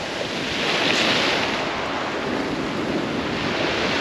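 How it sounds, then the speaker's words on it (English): Strong wind roars steadily on a beach at Hordle Cliffs with breaking surf beneath it, a loud continuous rush buffeting the microphone with no talking. "Oh, that wind. That's quite strong now."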